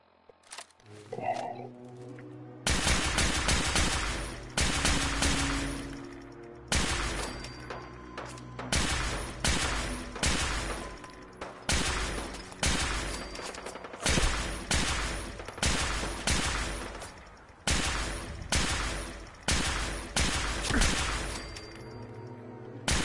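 Rapid gunfire while fighting super mutants in Fallout 4: loud bursts of automatic shots in repeated volleys with short gaps between, plus occasional game growls.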